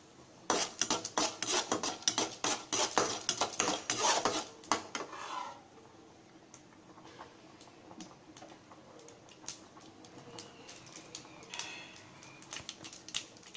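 Mustard seeds splutter in a hot pan after fennel seeds: rapid sharp crackling pops for several seconds, then they fade to faint, scattered pops.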